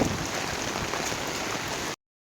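Heavy rain falls steadily in Betul, a dense, even hiss of downpour lasting about two seconds before cutting to silence, with no voices.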